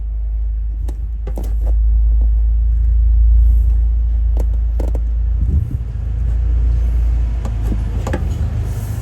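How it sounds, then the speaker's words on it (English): Steady low road rumble of a truck going by, swelling in the middle and easing off, with scattered clicks and mechanical knocks over it. "I turned my head just to see what kind of truck that was passing"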